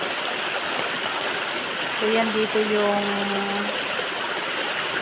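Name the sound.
stream flowing from Lel Falls waterfall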